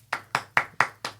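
Hand clapping during a podcast, five slow, evenly spaced sharp claps close to the microphone, crisp and distinct with short silences between them.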